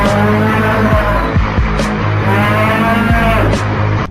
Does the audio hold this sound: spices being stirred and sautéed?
no